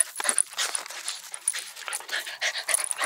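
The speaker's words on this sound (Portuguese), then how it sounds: "alegria desse cachorro aqui, ó" Excited hunting dogs pant and whimper in a quick, restless stream of breaths and yips, close by and moderately loud, just before setting out to hunt tegu lizards.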